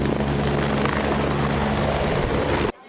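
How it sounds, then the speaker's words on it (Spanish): A medical helicopter at an emergency evacuation drill gives a loud, close, steady rotor roar and engine whine that cuts off abruptly at the end. "Los más graves son evacuados en helicóptero medicalizado."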